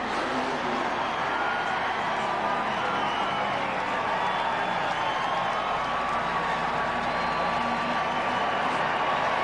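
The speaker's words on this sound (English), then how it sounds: "listen to the crowd. I mean, that's incredible." A NASCAR race crowd roars and applauds after a win at the 2001 Cracker Barrel Old Country Store 500, a broad sustained din of cheering and clapping, heard from a distance and never letting up.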